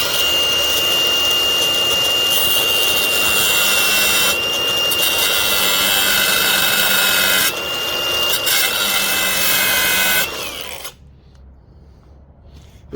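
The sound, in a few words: grinder cutting into an engine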